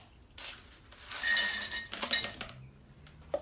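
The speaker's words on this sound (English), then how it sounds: "We're going to add some ice." Ice cubes clink and rattle as they drop into a pitcher of watermelon lemonade, making a quick burst of glassy knocks that peaks midway and then trails off into a few scattered taps.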